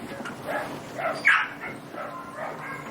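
A young puppy from a litter gives a few short, high yips and whimpers while being weighed, close by, with one sharper cry in the middle.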